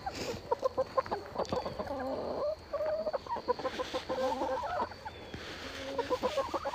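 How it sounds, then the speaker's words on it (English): Turkey clucking in short, repeated bursts of nasal calls with brief pauses between them, close by over faint background noise, with no talk. "Turkey bird."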